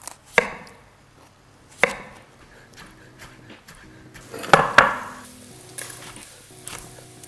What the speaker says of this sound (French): Je vais déjà couper les garnitures pour après